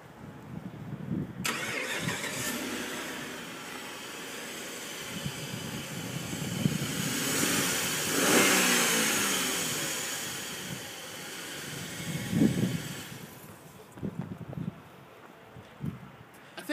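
A 2007 Dodge Ram 1500 four-wheel-drive pickup cranks and fires up, settles into a low idle, then revs up and back down twice, heard fairly close with no talk over it.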